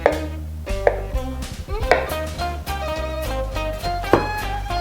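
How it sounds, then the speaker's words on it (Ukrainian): A knife chops a rolled dough log into equal pieces on a board, with a series of close, irregular thuds and taps against the surface. "Для цього робимо отаку ковбасочку. нарізаємо приблизно однакового розміру."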